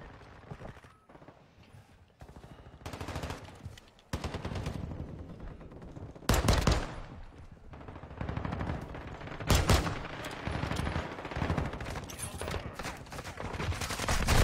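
Rapid bursts of gunfire from a multiplayer shooter game crackle through the clip, with repeated volleys and sharp louder shots standing out near the middle and end, dense and fairly close.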